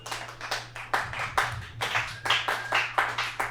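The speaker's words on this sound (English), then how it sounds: "give a round of applause for yourself" Scattered hand clapping from a small stand-up comedy audience, a run of quick uneven claps that swell and fade in short bursts over steady room hum.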